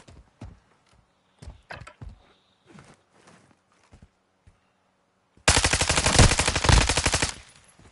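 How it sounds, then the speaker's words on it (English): Video game gunfire in Call of Duty Warzone: a few scattered single shots and thumps early on, then a loud, dense burst of rapid automatic fire lasting about two seconds before cutting off. "Somebody's shooting to the right,"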